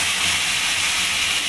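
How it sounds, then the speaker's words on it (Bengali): Spice paste ground in a mixer hits hot oil for a prawn malai curry, giving a loud, steady broadband sizzle and hiss that holds without a break. "আমি এখানে যে মিক্সিতে পেস্ট করে রেখেছিলাম সেই মশলাটা দিয়ে দেবো।"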